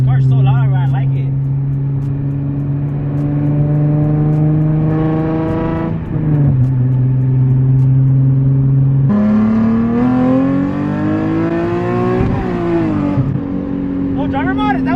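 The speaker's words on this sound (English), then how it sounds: "This car's so loud, I like it." A loud, throaty E85-tuned Nissan 370Z engine revs up and down repeatedly outdoors, its pitch climbing and dropping, with people talking over the roar.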